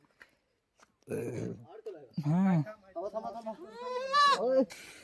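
Goats being trained to climb give several loud, close bleats in quick succession, wavering and nasal. Short pauses separate the calls, with a rustle or thud between them.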